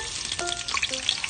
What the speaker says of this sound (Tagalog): akong gisahon